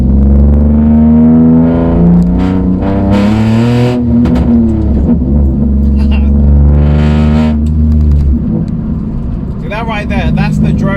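Toyota Aygo with a stage 2 tune at 97 bhp drones steadily between 3000 and 4000 RPM as the VVTi opens, a loud low engine hum running throughout, with someone talking over it.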